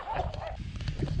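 A dog barks briefly while chasing cyclists on a road, with a quick couple of close barks mixed with a voice over the short moment.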